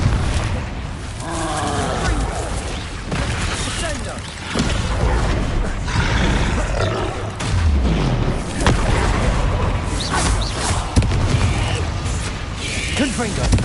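Spell blasts from Harry Potter Legacy go off as dense, booming bursts across a busy, loud mix, with mechanical clatter and a player shouting over the action throughout.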